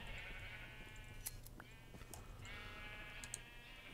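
Minecraft sheep bleating on a Hermitcraft farm: faint bleats in the distance over a steady low background hum, plus a few soft clicks.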